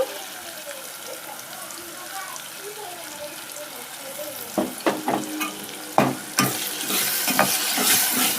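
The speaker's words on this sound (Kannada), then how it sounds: "ಚೆನ್ನಾಗಿ ಫ್ರೈ ಆಗ್ತದೆ." Ground masala paste fries in a pan for egg curry, giving a soft, steady sizzle. In the second half, louder scraping stirs and clattering strokes join in.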